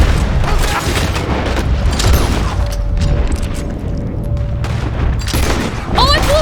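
Dense gunfire in the video game Red Dead Redemption II: loud, close shots and booms mixed with mechanical weapon clatter, running continuously across six seconds with an excited voice breaking in.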